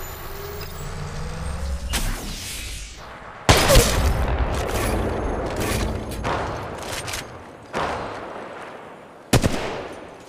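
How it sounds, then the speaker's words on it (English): Gunfire in the mobile battle game Apex Legends Mobile, heavy bursts of automatic fire crackling loudly over several seconds, broken by short pauses and sharp new volleys. "Opening fire!"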